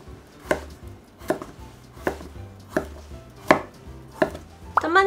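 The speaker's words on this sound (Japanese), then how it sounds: "切り込み入れたら角度変えて切っていくっていう形でザクザクと乱切りにしていきます" A knife chops potatoes into rough irregular chunks on a cutting board, giving seven sharp, evenly spaced thuds close up with no talking.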